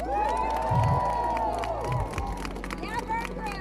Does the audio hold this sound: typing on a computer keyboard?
no